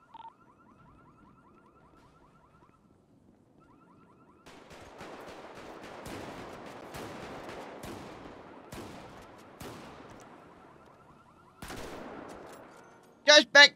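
Gunfire in the video game GTA: a faint steady tone gives way to bursts of rapid shots and sharp single cracks, then two loud close blasts at the end, with no talk.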